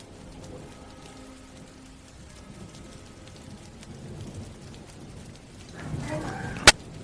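Steady rain falls throughout, a soft continuous hiss with low rumbling that swells near the end before a sharp crack.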